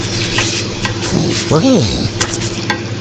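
Shrimp stirred in a hot frying pan while cooking macaroni bechamel: a steady close sizzle with scraping spoon strokes through the middle and a brief spoken exclamation.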